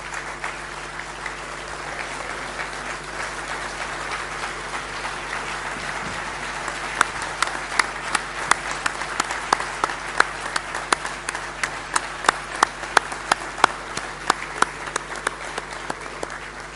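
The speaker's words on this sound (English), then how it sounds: "give the outgoing presidium a round of applause" An audience at an international culinary congress in Dubai applauds the outgoing presidium, with steady, sustained clapping from a sizeable crowd and sharper individual claps standing out in the second half.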